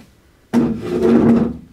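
A wooden door swings open on a stage at an improv theatre festival in Paris. It gives a close, fairly loud creaking scrape that lasts about a second, with no voices.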